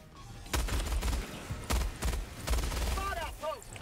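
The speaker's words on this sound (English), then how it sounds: "I'm gonna try using the rapid fire mode again" A support weapon in Helldivers 2 fires in rapid-fire mode: several dense bursts of automatic fire, loud and close, with short gaps between volleys and a brief whistling tail at the end.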